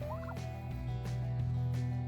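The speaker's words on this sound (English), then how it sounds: "And here's our 3 turkeys." Three turkeys gobble in rapid, warbling bursts, close by, over a steady low hum.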